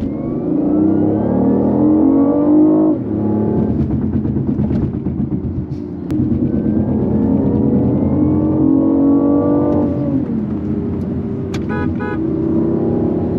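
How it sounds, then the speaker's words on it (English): A supercar engine in sports mode revs up and down loudly, rising in pitch with each acceleration, with a brief high beep near the end. "the sounds that we're hearing right now are essentially coming from the engine"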